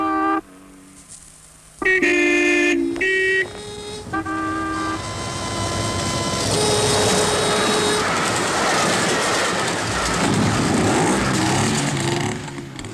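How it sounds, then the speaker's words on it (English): Loud horn blasts and a level-crossing warning bell ring out, then a train rumbles closer and roars past with rattling wheels, growing louder and filling the scene. "Not even a Parisienne can charm that barrier up before the train arrives."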